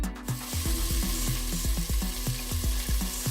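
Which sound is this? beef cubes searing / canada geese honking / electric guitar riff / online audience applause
beef cubes searing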